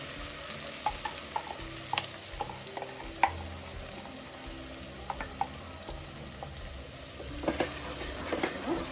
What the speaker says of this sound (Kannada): ನಾನು ಇದಕ್ಕೆ ರುಬ್ಬಿರೋಂಥ ಮಸಾಲನ ಹಾಕ್ಕೊತಾ ಇದ್ದೀನಿ